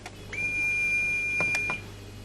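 A contestant's answer bell at a 2009 national science and maths quiz between secondary schools sounds as one steady, bright electronic tone held for about a second, broken by a few sharp clicks near its end.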